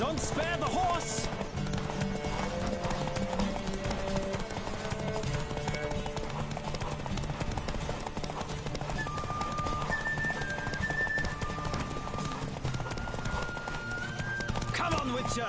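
Horse hooves clip-clop at a run in The Witcher video game, with a neigh or whinny, under steady game music and shouted rider voices throughout.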